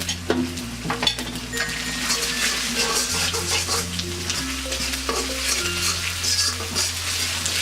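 Onion paste stirred and fried in a pan for chicken rezala, a steady loud sizzle with repeated scraping stir strokes and a low hum running underneath throughout.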